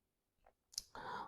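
Keystrokes while typing text into an Excel spreadsheet on a computer: a few quiet, separate clicks in quick succession, close and faint against near silence.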